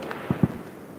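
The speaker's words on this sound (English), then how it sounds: "You can hear them fireworks." Fireworks going off at night during a live carp fishing session outdoors, two muffled distant booms in quick succession over quiet background hiss, no voices.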